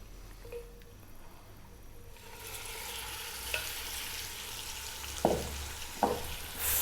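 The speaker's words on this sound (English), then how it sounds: "we're going to get our seasoned beef in there, and we're going to brown it for about 5 or 6 minutes" Seasoned beef browns in hot oil over high heat for an Arabic-style biryani, a steady sizzle swelling louder partway through, with a few sharp scraping stirs near the end.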